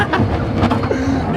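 A small miniature train at Trago Mills passes close by with a loud, continuous rumble and faint clattering, while voices are heard briefly beneath it.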